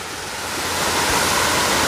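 Rain shower pouring down outdoors as a dense, steady hiss of broadband noise that swells slightly louder over the moment, close and constant with no voices.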